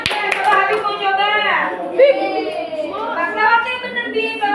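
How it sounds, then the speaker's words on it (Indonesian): A group of children in a classroom claps for a classmate, a few sharp claps at the start and then quieter clapping under loud, chanting children's voices that carry on throughout. "Beri tepuk tangan untuk Habib."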